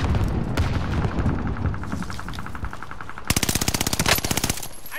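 Rapid automatic gunfire in a multiplayer shooter video game, steady dense crackle of shots through the first half, then a loud close burst of evenly spaced rounds near the end, with no talking.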